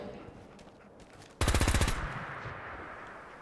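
A Gatling laser fires in a modded Fallout 76 game, a loud rapid burst of about ten evenly spaced pulsed shots lasting half a second over a low ambient hum, then fading into background noise.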